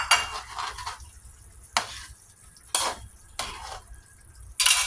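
Fish going into a pan of boiling sarciado sauce in a home kitchen, with bursts of sizzling and bubbling separated by short pauses and some utensil clatter; close and moderately loud.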